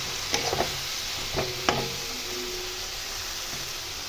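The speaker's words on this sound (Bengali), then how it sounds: "আমি এটা যতক্ষণ তেল না ছাড়ছে ততক্ষণ আমি ভেজে নেব" Poppy seed spice paste fries in oil in a pan, a steady close sizzle with a few soft knocks of a spatula stirring through it.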